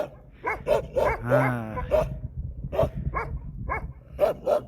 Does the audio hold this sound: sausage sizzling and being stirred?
no